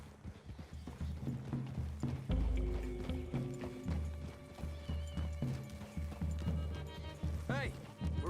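Horse hooves clip-clop at a steady gallop on a forest trail in the video game Red Dead Redemption 2, running the length of the scene beneath game music, with a brief whinny near the end.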